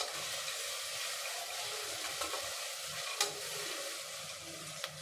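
Ginger garlic paste sautéing in a pan for mutton curry, a soft steady hiss of frying with a couple of faint stirring clicks, quiet and alone.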